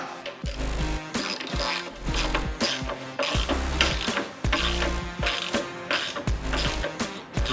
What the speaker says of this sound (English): All right, so we're gonna go ahead and tighten the pan down.